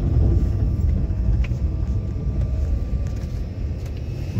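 A car drives slowly along a potholed road with water-filled potholes on the way to Vengurla lighthouse, giving a steady low rumble and jostling with light wind noise and no talk.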